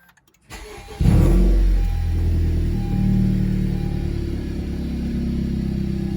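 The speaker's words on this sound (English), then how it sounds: "the turbo is louder" A Honda Civic Type R FK8 turbo engine starts with a sharp crank, catches and revs up, then settles into a loud, steady, throaty idle with a brief rise in pitch midway.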